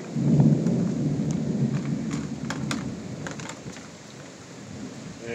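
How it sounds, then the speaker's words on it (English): A low rumble of thunder from a severe thunderstorm in the Bangor/Breedsville, Michigan area rolls under steady rain, loudest at first and then fading, with sharp drips and taps sounding close by. "listen to that lightning, or that thunder"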